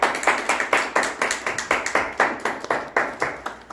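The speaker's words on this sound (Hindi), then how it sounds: "आइए खुदा उनके जलाल के लिए जोरदार तालियां बजाते हैं।" Applause in a church service breaks out as a rhythmic volley of hand claps, roughly four per second, steady and moderately loud, with no voices over it.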